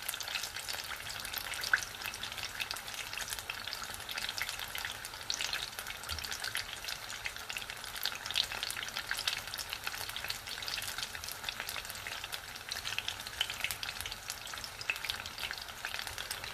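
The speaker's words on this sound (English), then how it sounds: "Keep them moving in the pan. Obviously, you can do these in the deep fat fryer if you want." Pakoras and bhajis fry in oil in a pan, giving a soft, steady bubbling sizzle that carries on evenly with no voices.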